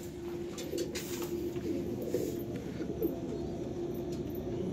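Pigeons outdoors give a continuous low, throaty cooing with a few faint higher chirps above it, at moderate distance and fairly quiet.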